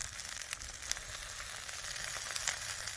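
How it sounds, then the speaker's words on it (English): A wild beaver tail frying in a pan, kept off the high heat, gives a steady close sizzle with scattered sharp pops and crackles across a few seconds, no voices over it. "Flip this tail. Get a nice even cook on it."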